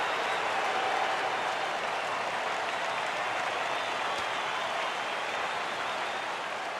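Stadium crowd cheering and applauding on a full count in MLB The Show 15, Yankees at Astros, a steady broad roar of noise holding for several seconds without commentary.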